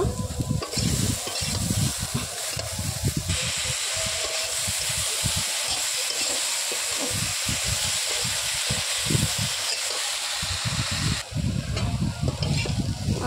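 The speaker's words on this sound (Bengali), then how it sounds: "তারপরে পটল আর আলুটা একটু অল্প ওই গরম করাতে যে তেলটুকু ছিল তাতে দিয়ে একটু লবণ দিয়ে ভেজে নেব।" Pieces of pointed gourd and potato fry in a little hot oil with salt, sizzling steadily up close while a spatula scrapes and stirs them in an uneven rhythm.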